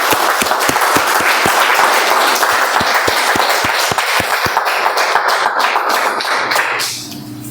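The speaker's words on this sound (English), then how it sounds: "Please give him a thunderous round of applause" Audience at a Toastmasters meeting applauding a speech contest winner who placed third, loud continuous clapping with a few sharp nearby claps standing out, fading out at the end.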